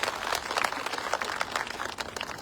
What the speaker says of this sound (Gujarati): આપ સૌને વિનંતી છે કે એમને તાળીઓના ગડગડાટ કરીએ